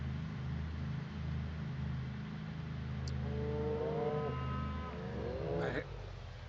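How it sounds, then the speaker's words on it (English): Cattle lowing somewhere off in the distance, a couple of drawn-out moos rising over a steady engine drone that hums through the whole stretch. "I hear some cattle."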